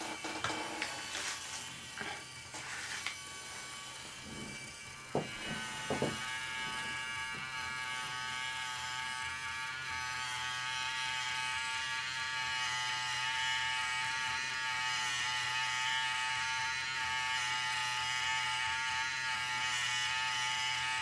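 Small model jet turbofan engine from a StirlingKit kit spins steadily, giving a continuous high whine with layered tonal hum that holds level throughout, a few brief knocks near the start, no talk.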